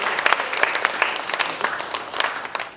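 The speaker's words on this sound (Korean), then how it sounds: "가시는 총장님을 위해서 박수 한번 더 부탁드리겠습니다." An audience of new students' parents at a university gathering applauds the departing university president, a brisk burst of many hands clapping, moderately near, trailing off after a few seconds with no talk over it.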